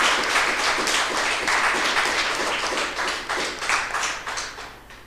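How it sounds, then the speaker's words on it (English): Applause for winning debate teams from Antigua schools, a dense crowd clapping steadily throughout and tapering slightly toward the end, with no voices over it. "Please give them a round of applause."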